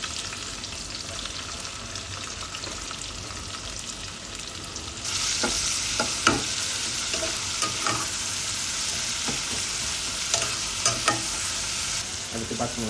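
Chopped onions hit hot oil in a home kitchen pan while cooking prawn gravy, a quiet hiss jumping to a steady loud sizzle midway, with a few scraping stirs of a spoon.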